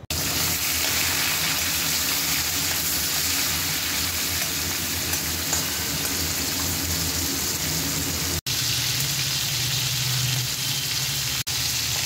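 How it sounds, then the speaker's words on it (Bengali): Shrimp fry in hot mustard oil in a wok with a loud, steady, continuous sizzle that runs throughout, broken by two brief cuts. "কড়াইতে দিয়ে দিয়েছি সর্ষের তেল। তেলটা গরম হয়ে গেছে। এবারে দেব মাছ।"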